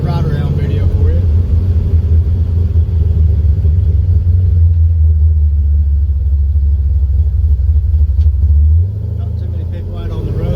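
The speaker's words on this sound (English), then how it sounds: "We're out here going to cruise the car around a little bit today." A car cruises along a quiet countryside road, its engine a steady low droning hum under continuous wind and road noise, with someone talking over it; the drone drops away near the end.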